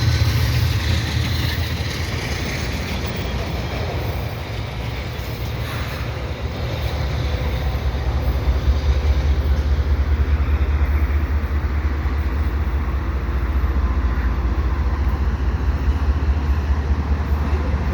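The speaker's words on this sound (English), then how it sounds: "It'll be a train." A steady low rumble of a Canadian Pacific train with locomotives rolling past nearby at Dorval, heavy engine drone sustained throughout with continuous broadband noise.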